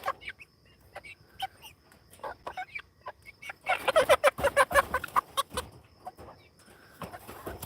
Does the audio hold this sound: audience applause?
no